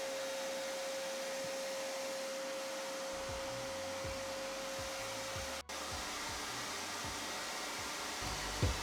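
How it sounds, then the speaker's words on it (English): A table saw with a crosscut sled cuts wooden tenons, a steady loud whirring roar with a constant high whine, and the sawing rumble grows stronger partway through as the wood feeds in. "back at the table saw sled to cut all the tenons to size"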